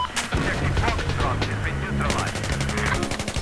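Rapid automatic gunfire in the Battlefield 4 video game, dense bursts of machine-gun shots and heavier blasts filling the moment, loud and close, with a player's voice mixed in.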